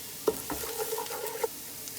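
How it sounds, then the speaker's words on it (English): Mutton masala with cumin being stirred in a pan, soft scraping strokes and a few clinks over a faint sizzle, fairly quiet and close with no talk. "So keep stirring up like that. Make sure करना कि ਇਹਨੂੰ जल ना जाए."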